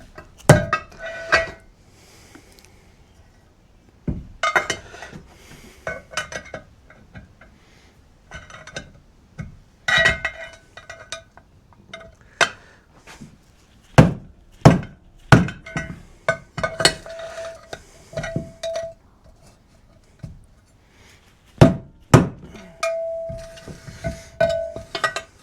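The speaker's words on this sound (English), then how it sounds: "hammer it out." A screwdriver is hammered to knock a stubborn seal out of an engine being rebuilt: a long series of sharp metallic strikes, some single, some in quick clusters, ringing close and loud with short gaps of quiet between.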